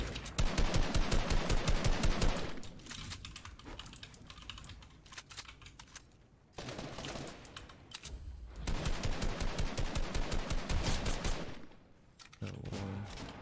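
Bursts of rapid automatic infantry rifle fire in the battle royale game Fortnite, several long rattling volleys separated by brief pauses, loud and close, with no talk over them.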